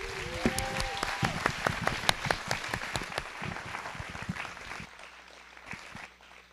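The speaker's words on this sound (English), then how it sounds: "Give her a huge round of applause." An audience at a community scholarship awards event bursts into applause, a dense wash of clapping with a few sharp claps up front that gradually thins and fades out.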